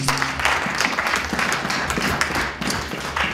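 A church congregation applauds in praise with loud, dense, sustained clapping that swells and ebbs, while faint voices mix in underneath.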